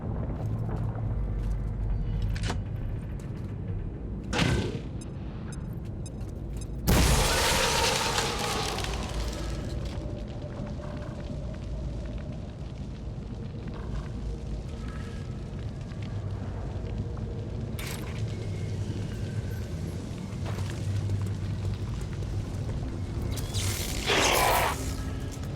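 A frag grenade explodes in XCOM 2 with one loud, broad blast partway through, among a few sharper impacts and a continuous rumbling game ambience.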